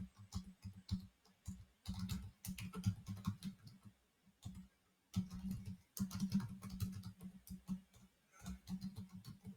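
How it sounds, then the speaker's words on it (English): Rapid clicking of keys on a computer keyboard in bursts with short pauses between, close and fairly quiet, a faint low hum underneath. "my typing is not so good today."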